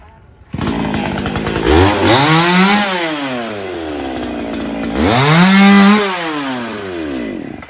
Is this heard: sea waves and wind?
no